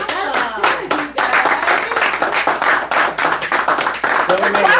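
A small group claps, the bursts of applause close and mixed with excited talking and laughter, a few strong claps rising at the start and end.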